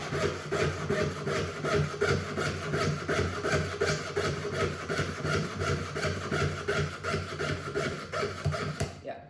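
A hand saw cuts a part for a jeweler's blanking die, with quick, even back-and-forth rasping strokes repeating steadily and close up, ending abruptly.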